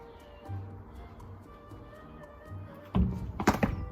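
A cricket bat strikes a bounced ball during batting practice, giving a couple of sharp, close wooden knocks near the end after a steady low background.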